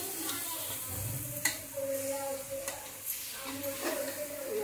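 Rice being stir-fried with red chili powder for a prawn biryani, a soft continuous sizzle with scraping stirs and a sharp clink of the utensil against the pan, close and moderately quiet.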